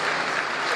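Dense, steady applause from a seated audience at the NYSC President's Honours Award ceremony, a continuous wash of many hands clapping at even loudness with no voices over it.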